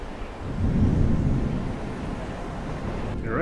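Thunder in the video game Toren, a deep rumbling roll that swells and lingers across the whole stretch, loud and alone without talk.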